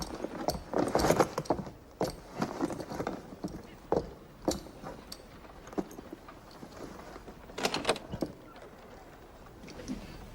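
Horse hooves clip-clopping in a Wild West town setting, irregular hollow knocks at moderate distance with faint mechanical jangling, no talk over them.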